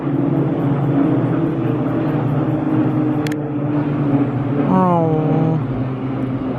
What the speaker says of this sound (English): Check this out, there's bloody planes.